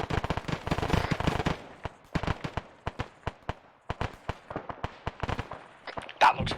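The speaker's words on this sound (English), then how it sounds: "I see MLRS rockets in the air." Video-game MLRS rocket barrage: a dense cluster of sharp explosive cracks, then a rapid, irregular string of separate bangs, loud and close, with one heavier blast near the end.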